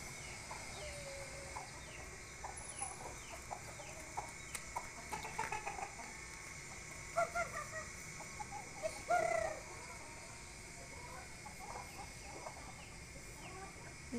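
Backyard chickens, including a white hen, clucking and calling in short scattered bursts over steady outdoor background noise, moderately close, with no talk.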